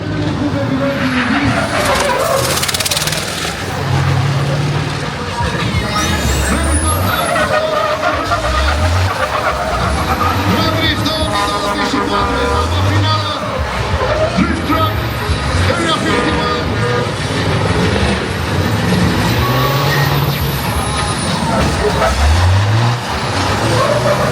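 A drifting truck at a drift event runs its engine hard the whole time, with revs rising and falling in repeated sweeps and high tire squeal over the top, all close and loud.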